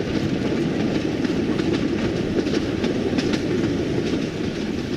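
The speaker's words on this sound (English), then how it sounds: "From Cusco to Aguas Calientes, you can take the train." A passenger train running from Cusco to Aguas Calientes rumbles along steadily, with a loud, continuous roll and rhythmic clickety-clack of wheels over rail joints, heard from up close with no voices.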